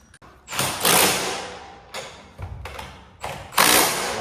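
Wrench tightening bolts on a garage door torsion spring system, with several loud metallic ratcheting bursts and thuds at irregular intervals, close and with no talking.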